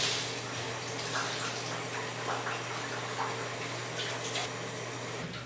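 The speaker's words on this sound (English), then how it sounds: "I can actually just take this and fold this, wring it out" A wet cleaning cloth is folded and wrung out, releasing a steady stream of water that splashes and trickles continuously at close range.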